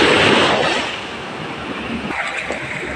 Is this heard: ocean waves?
yes